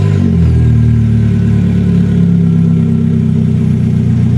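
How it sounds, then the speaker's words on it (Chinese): A Luwei Landun 38 reverse three-wheel motorcycle engine runs close by with a deep, steady low rumble that eases slightly after a brief rise at the start, heard alone without talk. "我先给大家听一下这个发动机的声音跟音响的声音。"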